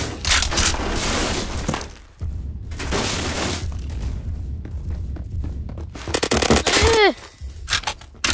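A shotgun in the shooter game Phantom Forces fires in heavy, rapid blasts, loud and close, with bursts separated by short lulls and a whizzing ricochet near the end.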